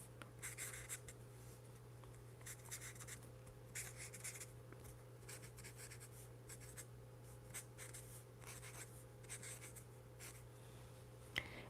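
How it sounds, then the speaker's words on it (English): A chisel-nib marker scribbles in a collage journal with soft, continuous scratchy strokes that come in repeated short bursts, close and quiet, with no talking. "I'm not completely filling it, just kind of scribbling a little bit in there."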